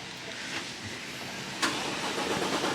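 A Dodge Hellcat's engine cranks and catches with a sudden burst partway through, then settles into a steady rumble, heard fairly close on a rainy day with broadband noise throughout.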